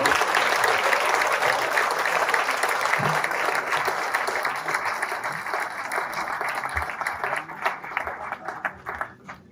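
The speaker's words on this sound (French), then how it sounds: "Applaudissons-les." A large audience at a mayor's New Year ceremony applauds a local football club invited onstage, with dense, sustained clapping that loosens into scattered claps toward the end.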